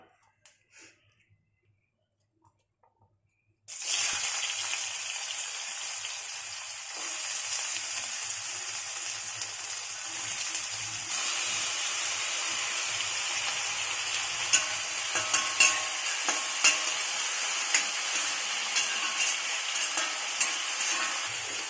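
Drained sweet potato pieces hit hot oil in a pan after a brief quiet start, then a steady, even sizzle of frying continues, close and moderately loud, with faint stirring clicks and no talking.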